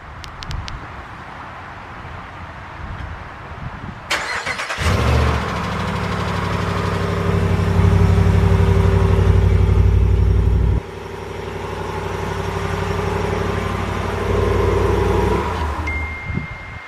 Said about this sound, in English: I'm going to give you a cold start with the stock exhaust.